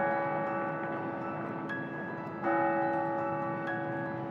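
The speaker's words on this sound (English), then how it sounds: "Listen to that bell. Can you hear that bell?" A clock bell chiming at the Palace of Versailles, clear ringing tones with long sustained overtones, one strike near the middle and a louder one about halfway through, heard against a quiet room background.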